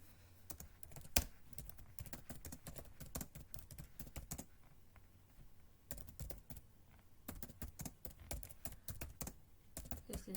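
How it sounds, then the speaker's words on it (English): Rapid, uneven keystrokes clatter on a computer keyboard in close, quiet bursts, pausing briefly before resuming, with no voices. "This is me just typing something in"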